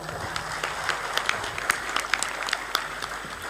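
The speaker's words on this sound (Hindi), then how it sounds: "ताली बजाओ फिर" A gathered crowd at a welcome ceremony for a legislator in Ayodhya claps, with uneven scattered hand claps rising over a busy background murmur.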